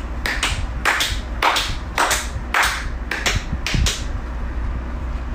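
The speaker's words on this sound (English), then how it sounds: "Different tempo claps?" About nine sharp hand claps ring out alone at an uneven tempo, some spaced widely and others closer together, loud and near over a low hum.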